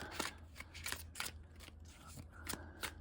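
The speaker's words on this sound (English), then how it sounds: "A few more shuffles." Tarot cards shuffled by hand in a quiet room, giving a series of soft riffling, papery bursts at an uneven rhythm, close and fairly faint, with no talking.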